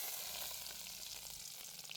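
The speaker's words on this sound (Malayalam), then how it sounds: "എണ്ണ ചൂടായിട്ടുണ്ട്, ഇനി കടു ഇടുക." Mustard seeds sizzle and crackle steadily in hot oil in a pan at the start of a lovlolikka pickle, a dense, close frying hiss with no talking.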